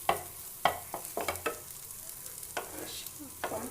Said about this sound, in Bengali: আমি এটাকে একটু জাস্ট নাড়াচাড়া করে নেব।